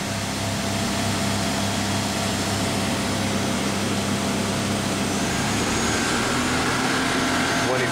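A 2004 Clausing Metosa 17-by-60-inch CNC flat bed turning center runs its spindle at 2000 RPM, giving a steady, loud, dense mechanical whir with a constant hum that stays even throughout.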